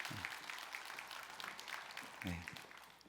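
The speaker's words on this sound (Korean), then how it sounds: "우리 하나님께 영광의 박수 올려드리겠습니다" A church congregation claps together at a thanksgiving dawn service, a continuous, fairly faint patter of applause with a voice or two rising briefly under it.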